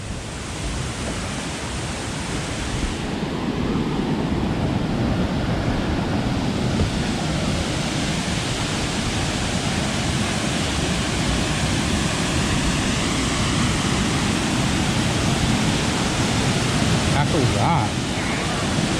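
Steady broadband rush of the waterfall at Murray Falls, a continuous loud roar of falling water heard close by with no break throughout.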